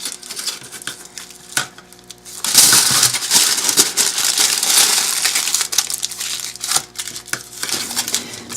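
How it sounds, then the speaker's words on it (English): Aluminium foil crinkles and crunches as it is wrapped and molded around a shape for a clay Easter bunny's head, quieter at first, then a sustained, busier crackling with sharp crinkles. "And the foil is really easy to mold and maneuver."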